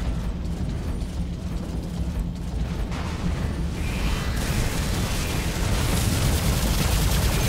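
Dense gunfire from a War Robots PC battle plays as a continuous, loud mechanical clatter of rapid shots and impacts that builds slightly over several seconds, with no speech.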